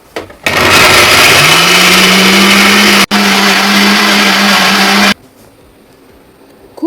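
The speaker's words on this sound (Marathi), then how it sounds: "आता हे सगळं मिक्सरच्या भांड्यात काढून घ्यायचं आहे." An electric mixer grinder whirs loudly as it grinds tomato, garlic, onion and chillies into a paste, starting abruptly, pausing for a split second midway, then cutting off into quiet.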